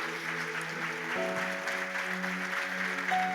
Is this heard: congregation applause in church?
yes